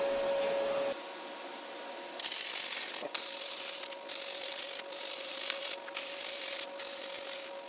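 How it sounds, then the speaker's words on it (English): A wire brush scrubs slag off a freshly stick-welded stainless steel diamond-shaped piece in rhythmic, raspy back-and-forth strokes, close and steady, repeating in short bursts with brief pauses between them. "When you brush it off, it gets rid of all that color and stuff."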